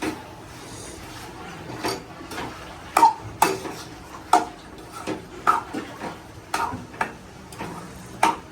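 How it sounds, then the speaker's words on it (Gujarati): A spoon clatters and taps against a pot while a boiled potato mash with salt and sugar is stirred and pressed, a series of sharp irregular knocks over quiet background. "એને થોડી વાર હલાવીને મેશ કરી લઈશું."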